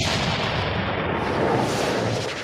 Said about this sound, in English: Let me fire those cannons.